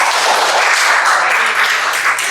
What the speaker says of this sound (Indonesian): kasih tepuk tangan untuk jawab